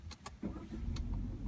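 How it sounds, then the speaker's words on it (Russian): A Peugeot 3008's engine turns over with keyless start and settles into a low, steady idle nearby, preceded by a few short clicks. "Заводится все без ключей."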